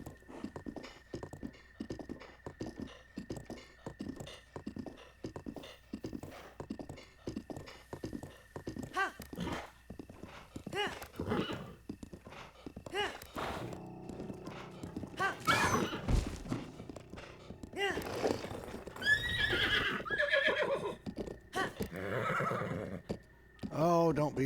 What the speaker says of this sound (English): I did catch Zelda's horse